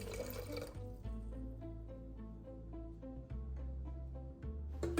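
About 3.5 cups of water are poured from a vessel onto 2 cups of quinoa in a pressure cooker: a continuous, close, gurgling stream with a pitch that shifts as it fills, and a few soft knocks.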